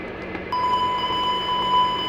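Fire bell and master warning test tones sound in a Dash 8 Q400 flight simulator cockpit, a sustained electronic beeping alarm that starts abruptly and continues steadily at moderate volume.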